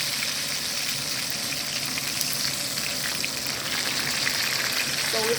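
Steak searing in a pan with garlic gives off a steady, dense sizzle that stays close and even for the whole stretch, with no voices over it.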